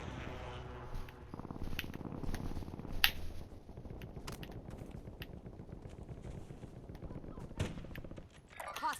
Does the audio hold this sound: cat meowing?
no